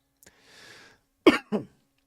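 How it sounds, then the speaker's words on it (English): Two sharp, close coughs in quick succession after a soft breathy throat sound, with silence around them. "I'm going to keep coughing here"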